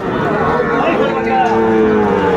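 A cow lets out a loud, close, drawn-out moo at a livestock market in Ambari, Dinajpur, a single sustained call rising and falling over about two seconds.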